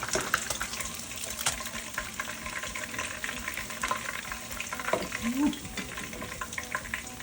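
Fish, a silver pomfret type, frying steadily in hot oil in a home kitchen, with a continuous close crackling sizzle, faint scraping and a brief rattle of utensils and no talk.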